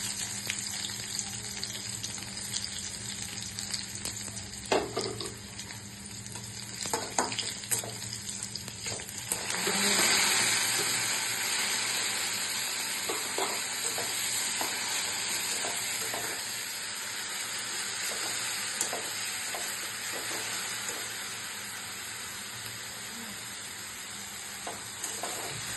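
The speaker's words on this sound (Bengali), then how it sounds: "শাক ভাজা হয়ে গেছে।" Jute greens sizzle and fry in a pan with cumin, dried chillies and crushed garlic, a steady close hiss broken by occasional scraping stirs, with no talking.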